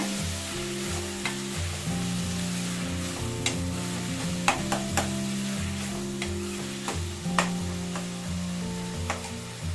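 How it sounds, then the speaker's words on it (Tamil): Tomatoes sizzle in a pan for chapathi thokku, a steady frying hiss under a low hum, with repeated sharp clicks and scrapes as a spoon stirs and taps the pan. "இப்ப நம்ம தக்காளியும் சேர்த்துக்கலாம்."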